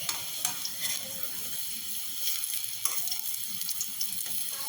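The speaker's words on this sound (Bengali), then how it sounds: "এবার উল্টো পাশটা এরকম লাল লাল করে ভাজা হয়ে গেলেই ধনেপাতার পকোড়া রেডি হয়ে যাবে।" Coriander leaf pakoras frying in hot oil give off a steady, fairly quiet sizzling hiss with a few small crackles, and no voices are heard.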